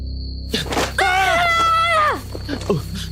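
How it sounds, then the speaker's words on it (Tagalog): A sudden, sustained scream rings out in a tense aswang horror drama, loud and close for about a second, with other voice sounds around it. "Bakit ka kasi biglang sumigaw?"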